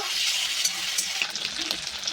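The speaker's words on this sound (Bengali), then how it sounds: "মাছগুলো ভেজে তুলব" Shrimp frying in hot mustard oil in a wok, a bright crackling sizzle with scattered pops, close and steady, with no voices.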